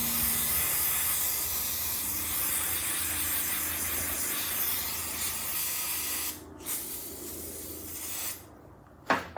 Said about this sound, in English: I'll spray it, I'll look at it, I'll spray it again.